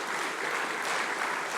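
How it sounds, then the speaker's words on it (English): An audience at a university research awards ceremony applauds the awardees, dense steady clapping filling the hall throughout. "would you give a round of applause to each of our awardees and the faculties"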